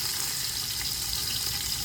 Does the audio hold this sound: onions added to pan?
yes